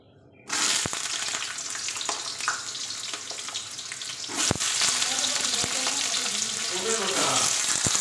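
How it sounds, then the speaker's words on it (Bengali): Potatoes tipped into white oil in a hot wok burst into a loud, close sizzle that holds steady, with a few faint clicks of stirring. "তো এবার আমি আলুগুলো ভেজে নেব"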